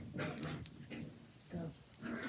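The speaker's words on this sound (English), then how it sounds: "this is a dog fight" Dogs scuffle indoors in a quick, faint exchange of growls, yips and whimpers, rising and falling in short rough bursts.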